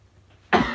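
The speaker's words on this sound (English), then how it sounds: "that was like me clearing my throat" A single short throat clearing near the microphone, a rough burst that starts abruptly after a brief quiet moment and then tails off.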